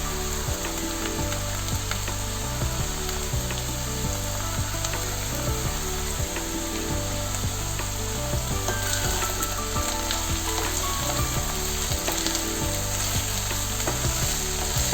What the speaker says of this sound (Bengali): এবার এটাকে ভালো করে ফ্রাই করে নেব